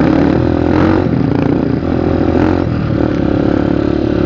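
A borrowed trail motorcycle's engine runs loud and close, holding a steady, throaty rev that barely dips throughout.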